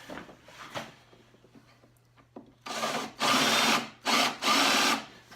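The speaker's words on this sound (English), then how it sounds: "Problem with drilling out a rivet from this side is the steel pin is still in the center of the rivet." Carbide drill bit drilling out a rivet that still holds its steel center pin, on a Ski-Doo MX800 snowmobile side panel; after quiet handling noises, loud grinding bursts of drilling come in three or four pulses, close up.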